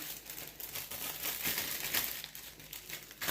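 Quiet, continuous crinkling of a plastic bag being handled nearby while cleaning a grinder, with irregular rustles and sharper crackles rising and falling.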